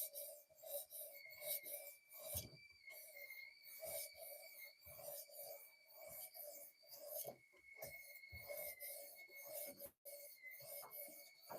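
A knife is drawn repeatedly across a fine 800 grit sharpening stone, producing soft, rhythmic rasping strokes, quiet and close, with a faint steady tone underneath.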